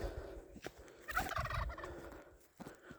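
A turkey gobbles loudly and close by in one rattling burst, its warbling call rising over a rustling outdoor background, with a few soft thumps before and after.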